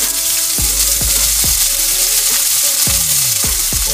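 Peppers and onions — green, orange, yellow and red — sear in olive oil in a pan, a steady loud sizzle broken by several sharp scraping clatters of a spoon or utensil against the pan.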